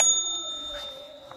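A notification bell rings once with a bright ding at the start, its clear metallic tone lingering and slowly fading across the short stretch with no talk over it.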